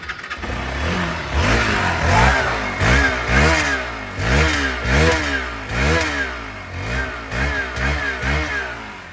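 Used motorbike at a dealer's lot, its engine running and revved repeatedly in quick rising-and-falling bursts, loud and close, no talking.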